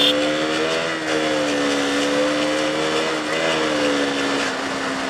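A KTM Duke 200 motorcycle rides through Kathmandu with a slipping clutch, its engine holding a loud, steady, slightly wavering whine close by, with small dips in pitch and no talk.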